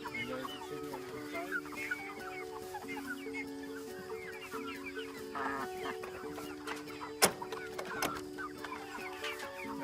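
Chickens in a mobile chicken tractor cluck and murmur steadily nearby, with scattered soft calls layered over each other and a couple of brief sharp knocks partway through.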